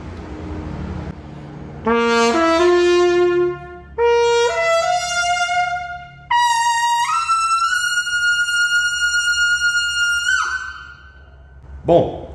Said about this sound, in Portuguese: esse é o som do bocal de lead